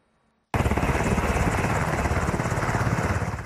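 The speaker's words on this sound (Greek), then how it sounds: "Τούρκοι κομμάντος επιβιβάζονται σε ελικόπτερα με προορισμό το Βόρειο Ιράκ" Military helicopter rotor beating loud and close, starting abruptly and continuing as a steady rapid chop as Turkish commandos board, with no other sounds over it.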